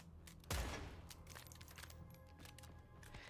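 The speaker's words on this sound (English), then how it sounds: "That is a bolt snapping closed on a closed bolt gun." A gun bolt snaps closed in the Killing Floor 3 video game, a single sharp, loud metallic bang followed by a decaying boomy tail over a noisy in-game background.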